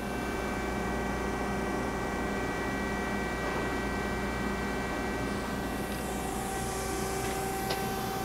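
A Haas ST-30 CNC turning center with a hydraulic tailstock, 12-station turret, chip conveyor and coolant system runs in its low gear range at about 150 RPM, giving a quiet, even mechanical hum with faint tonal whine throughout.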